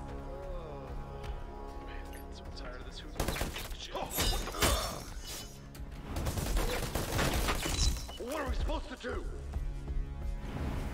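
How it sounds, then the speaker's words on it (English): Another player's gunfire in Predator Hunting Grounds: bursts of shots and sharp impact cracks clustered in the middle and later stretches, under ongoing game noise and a voice talking. "there's already somebody that sees me and is shooting at me"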